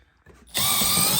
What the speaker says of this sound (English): If I had stock, you're going to drill this guy out.